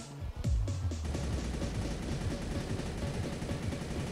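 Rapid bursts of submachine gun fire in the video game Truy Kích crackle steadily, with a sharp shot at the start and sustained fast rattling after, no voices.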